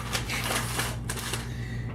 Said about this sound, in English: make a bunch of noise with this paper.